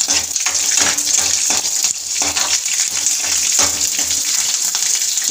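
Chilies hit hot oil in a pan on a low gas flame while making dhokla, a steady loud sizzle and spatter that runs on without a break.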